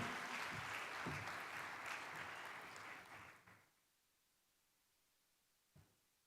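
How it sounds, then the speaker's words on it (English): Audience applause at a Kenyan diplomatic anniversary celebration, a crowd clapping steadily for a few seconds before fading into quiet, with one short knock near the end. "A round of applause for Matthew."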